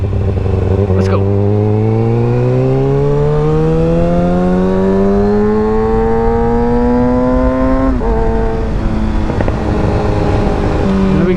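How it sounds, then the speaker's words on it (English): A sport motorcycle engine revving while riding through a neighborhood, loud and close, pitch climbing steadily through a long pull before a shift and another rise, with a voice talking over it. "Sport bikes don't like to go slow."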